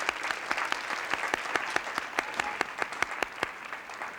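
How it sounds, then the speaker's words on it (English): An audience at a 1995 hall of fame ceremony for high school alumni applauds the inductees, steady clapping from many hands with distinct sharp claps standing out, fairly loud and sustained throughout. "Let's give all of our inductees a round of applause."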